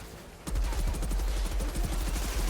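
Rapid, continuous pistol fire in the shooter game Outriders starts abruptly and keeps up a dense, loud stream of shots to the end.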